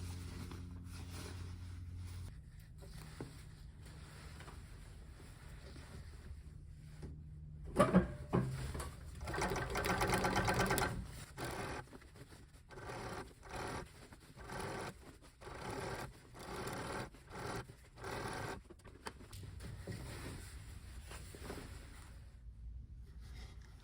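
A blind stitch sewing machine hems sheer drapes in bursts of rapid mechanical whirring and clatter, starting and stopping several times between quieter handling noises. No one speaks.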